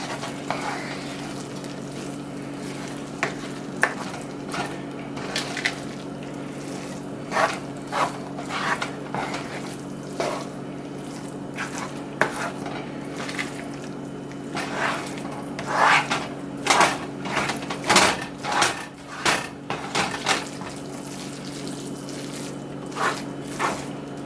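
Chicken and rice being stirred and mixed in a pot, with repeated scraping and clinking strokes of a spoon against the pot over a steady low hum and a soft sizzle.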